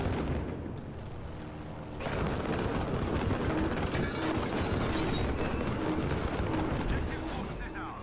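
An anti-aircraft gun in the World War II shooter Battlefield 5 opens up after a quieter two seconds, then keeps up a loud, dense, continuous barrage of rapid shots that roars steadily to the end.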